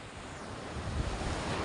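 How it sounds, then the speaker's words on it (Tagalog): Large sea waves surging at dusk, with a steady broadband roar of surf and wind buffeting the microphone, loud and continuous with no voices. "Ang lalaki ng alon."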